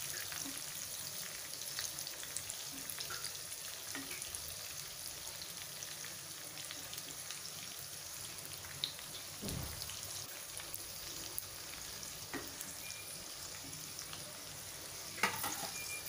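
Okra sizzles and crackles in hot oil for bhindi masala while being stirred, a steady close frying hiss with occasional scraping clicks and small pops throughout.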